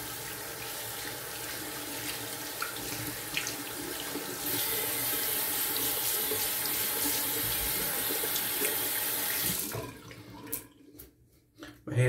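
Tap water runs steadily into a sink, rinsing soap lather off hands, a continuous close hiss that stops abruptly near the end, leaving a few drips and faint handling noises.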